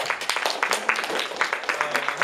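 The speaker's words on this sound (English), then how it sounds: "Give him a round of applause" An audience applauds Adrian at a contra dancing gathering in Harmony House, with dense, steady clapping from a crowd nearby that fills the whole stretch without letting up.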